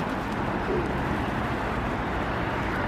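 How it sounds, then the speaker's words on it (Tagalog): Faint pigeons coo softly against a constant outdoor background hum at Lichterfelde Ost station in Berlin. "Dami nilang mga kalapati dito."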